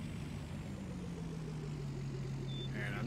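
Tractor engine idling in Farming Simulator 19, a steady low drone with a slowly falling pitch, holding constant and fairly loud throughout with no talk over it.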